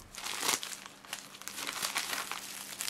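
A plastic parcel package is opened up close, with continuous soft rustling and crinkling and a few sharper crackles, quiet and with no one talking.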